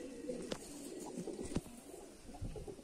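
Soft, low pigeon coos rise intermittently from a loft of Palla-line racing birds, fairly faint and close, with brief quiet gaps between calls.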